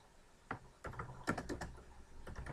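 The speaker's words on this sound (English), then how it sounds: "Then you type in whatever your question is." A question is typed on a computer keyboard, quiet close-up key taps arriving in small irregular clusters with short pauses between them.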